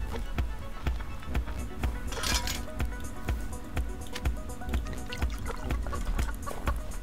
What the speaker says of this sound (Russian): Да вода что так медленно набирается?